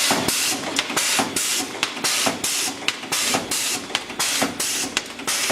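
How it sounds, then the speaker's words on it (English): An insertable tab machine running on auto cycle gives off a steady, loud mechanical hiss and clatter, with rhythmic bursts repeating about every half second throughout. "you will turn the machine on, turn on auto cycle, push feed seat"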